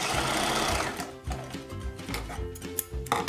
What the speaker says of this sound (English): And then we're gonna sew 2 lines and a zigzag stitch.